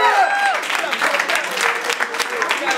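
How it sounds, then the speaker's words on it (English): Live crowd at a rap battle in Ottawa cheering and applauding loudly after a round, dense clapping and shouts filling the whole stretch with steady energy. "Make some noise for IS"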